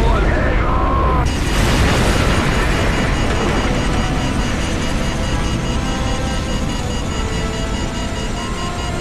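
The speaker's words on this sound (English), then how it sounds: "Something has happened. What appears to be an explosion of epic proportions." A massive nuclear explosion in the Call of Duty 4: Modern Warfare video game sets off a loud sustained roar and rumble that holds for several seconds with no letup.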